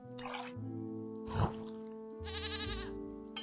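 A goat in the puzzle game Rusty Lake Paradise gives several wavering bleats over a steady tonal music bed, close and clear, with a dripping, liquid accent midway.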